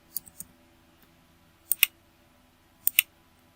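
Mouse clicks on a search button during accounting software use: three separate groups of sharp double clicks, close and crisp, with quiet between them.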